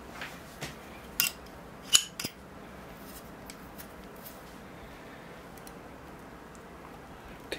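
Pruning shears snip a wisteria bonsai root in a few sharp, close cuts, clustered near the start, then faint handling noise with no talk.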